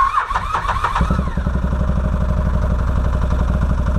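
A 2013 Can-Am Maverick side-by-side with stale gas cranks briefly, then fires up and settles into a loud, close, steady rumbling idle.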